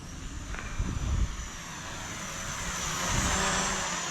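A steady mechanical hum rises and swells from a small Visuo XS816 Battle Shark toy drone flying nearby, with a brief louder burst early on.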